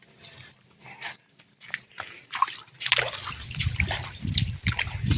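Water from a small waterfall in a forest splashes and trickles nearby, steady sloshing that grows louder toward the end, with a few sharp splashes and no talking.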